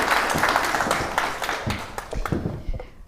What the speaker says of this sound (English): another round of applause for Kaylin Saunders